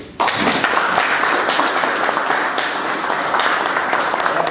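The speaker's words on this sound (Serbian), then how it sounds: "Iz tog razloga smatram da i jedno i drugo od nas zaslužuju jedan aplauz i da je podržuju." An audience at a business delegation gathering breaks into sustained applause, a dense wash of clapping that starts abruptly and carries on steadily, close and loud.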